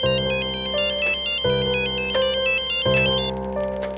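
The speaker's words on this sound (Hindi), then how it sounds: "प्रीति को उसके मोबाइल पर लोकेश और राकेश के फोन आने लगे।" A loud, close mobile phone ringtone repeats its bright electronic melody in a steady looping rhythm, with no talking.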